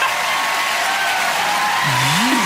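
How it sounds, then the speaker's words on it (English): A studio audience applauds on a Saturday night entertainment show, a broad steady wash of clapping with a voice briefly rising near the end. "Round of applause for Flash, everybody!"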